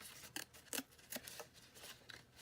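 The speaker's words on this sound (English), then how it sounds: "And then my scissors. Just trim it." Scissors trim paper in a handful of short, crisp snips, quiet and close, with no voice over them.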